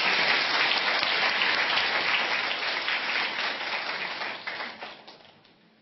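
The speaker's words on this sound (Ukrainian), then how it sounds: "Спасибо за аплодисменты." Dense applause from a television studio audience fills the room, steady at first and then gradually fading out toward the end.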